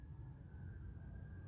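Emergency sirens wail in a city street in Manhattan, New York, a steady drawn-out tone heard at a distance over low rumbling traffic noise.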